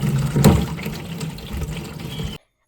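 Water from a tap fills a container with a continuous splashing gush that is loudest at first and then stays steady before cutting off abruptly.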